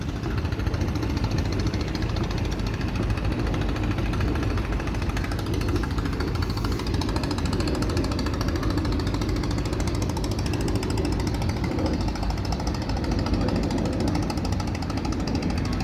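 A trawler boat engine chugs on the Buriganga river near Fatullah, a loud, close, relentless low diesel rattle and thrum that holds steady throughout with no voices.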